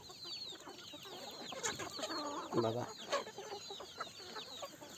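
Country chickens cluck and chatter in a farm shed in a dense, overlapping flock. The calls are soft and close, with a person speaking briefly.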